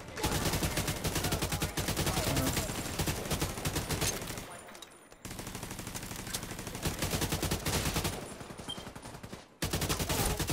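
An automatic turret fires in the video game The Division 2, rapid continuous bursts of gunfire broken by two short pauses, with faint voices now and then.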